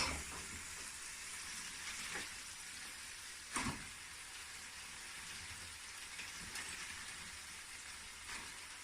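Cabbage and other vegetables go into a hot pan for a Bangladesh-style vegetable curry, giving a steady, moderately loud sizzle and fry with a few sharper stirring clatters near the middle and end.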